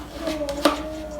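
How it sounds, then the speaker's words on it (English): A knife cuts an onion on a board, with a couple of soft chops and one sharper knock close by, over a low steady hum. "I'm going to cut the onion."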